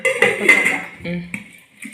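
A cooking pot of yam curry set down on a stove: a few metallic clanks and scrapes close by, a ringing knock near the start and another short clink after a brief pause.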